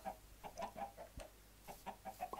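Chickens in the video game Minecraft cluck repeatedly in short, evenly spaced calls, quiet and alone against a faint background.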